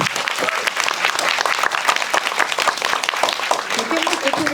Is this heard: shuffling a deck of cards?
no